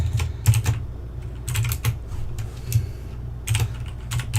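Quick bursts of typing on a computer keyboard, close by, with pauses between flurries of key clicks and a low hum underneath.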